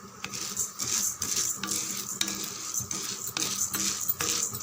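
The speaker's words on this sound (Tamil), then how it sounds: "தீயை சிம்மில் வச்சுட்டு நல்லா மிதமான அனலில் நல்லா சிவக்க வதக்கிடலாம்" A spoon scrapes and stirs chana dal and toor dal dry-roasting in a pan over low heat, with steady rhythmic strokes and light clinks repeating close up.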